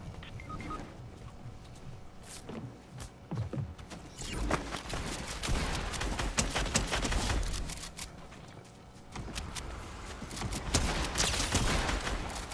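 Bursts of SCAR assault rifle fire in Fortnite Reload on PS5, dense rapid shots cutting in and out over a busy game background, with louder volleys toward the middle and end.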